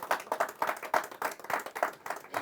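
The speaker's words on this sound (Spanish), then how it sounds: "Denle un aplauso al Eterno por esa realidad" Applause for God at a Spanish-language religious service on the Torah portion Yitro: clapping from a congregation in uneven rhythmic bursts, steady and moderately loud with no one speaking.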